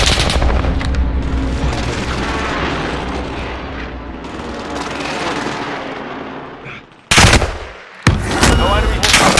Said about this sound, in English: Enemy send it. Precision airstrike.